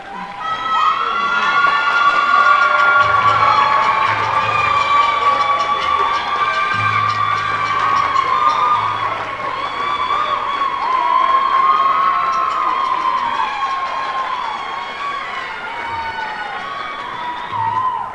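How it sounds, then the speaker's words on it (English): A large school concert audience claps and cheers for standing senior members of a high school wind ensemble, a loud, dense, sustained roar of applause with children's shouts and whoops running steadily through the whole stretch. "let's give you a huge round of applause"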